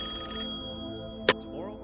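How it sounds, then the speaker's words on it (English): A telephone rings in an audio drama scene, a sustained electronic ring that cuts off, followed by a short sharp click and a brief faint tone, with no voices. "The phone started ringing."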